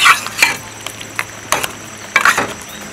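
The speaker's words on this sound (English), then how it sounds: "Give it a stir, clean down the edges." Chicken curry with potatoes being stirred in a pot, a spoon scraping and knocking against the sides in a few short, scattered clatters over a low background hum.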